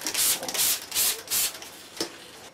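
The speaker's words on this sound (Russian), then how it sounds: "Разбрызгивание происходит интенсивное." Hand pump spray bottle misting banana peel infusion onto plant leaves, about six short hissing sprays in quick succession, close and fairly quiet.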